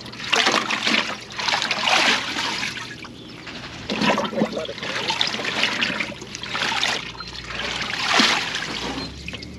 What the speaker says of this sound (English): We just fill up a tub with water, and we dunk the lettuce into the tub.